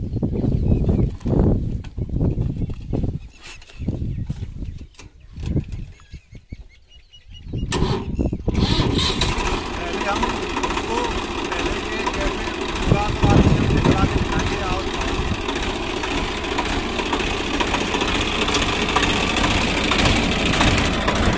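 A Swaraj 960 FE three-cylinder 60 hp tractor works with an 11-tine cultivator. Its engine runs loud and steady with a low rumble for most of the stretch, preceded by intermittent bursts and talk.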